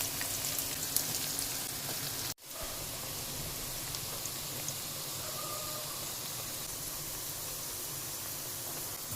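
Onion pakoda batter frying in hot oil, a steady close sizzle with a brief dropout near the start before the crackling resumes evenly.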